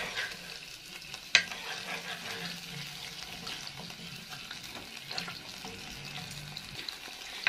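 Garlic sautés in a pan of oil and vinegar, crackling and sizzling with faint stirring scrapes and a sharp clink near the start, close and steady throughout.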